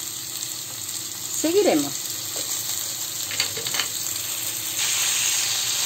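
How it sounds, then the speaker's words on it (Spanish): Pork ribs, salted and peppered, browning in a hot frying pan with a steady sizzle, a brief voice partway through. "Las vamos a dorar por todos los lados"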